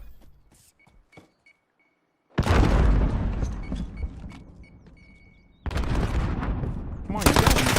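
Submachine gun fire in a first-person shooter video game, delivered in two long, loud rapid bursts separated by a short pause, with faint game sounds before the first burst.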